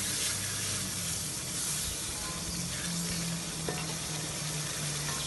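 Carrots and potatoes for a mixed vegetable pulao sizzle steadily in a pan, a dense, even frying hiss with faint stirring scrapes, close and alone.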